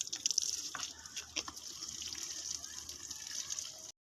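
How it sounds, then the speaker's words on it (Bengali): Water pours and trickles steadily out through holes punched in a bucket in a vegetable garden, a continuous close splashing with a few brief spurts, alone before cutting to silence at the end. "ফুটা করছে করে করে ওই ফাঁক দিয়ে পানি ফেলায়"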